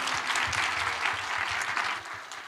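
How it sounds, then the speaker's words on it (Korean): A congregation's applause at a Korean church sermon, a steady, even wash of many hands clapping, moderately distant and fairly soft, sustained throughout before tapering slightly at the end. "박수"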